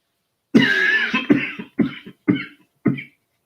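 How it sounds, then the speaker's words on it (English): A series of five harsh coughs close to the mic, the first longest and loudest, the rest shorter and spaced out, with no talking. "don't know where that cough came from"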